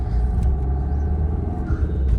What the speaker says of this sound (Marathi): फुल ट्रॅफिक झाले बाई.